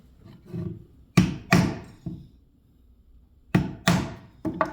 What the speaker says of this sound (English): And then I'm going to use a chisel to finish off this pattern.